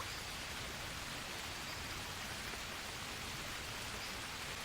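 Steady, even hiss of rain falling in the jungle survival game Green Hell, a constant wash of droplets with no change in loudness and no talk.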